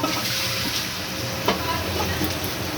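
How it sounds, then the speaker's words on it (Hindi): Meat stock (yakhni) pours into freshly fried spice masala for Afghani pulao, hissing and sizzling steadily in the pot as liquid splashes into the hot oil. "ये क्या हमारा मसाला भुन गया है, अब हम इसके अंदर यखनी डाल देंगे।"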